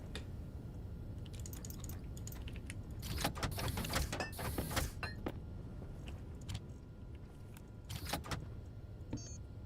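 A computer keyboard clatters in quick bursts of keystrokes, quiet and close, with a denser flurry of typing partway through and a low steady background hum.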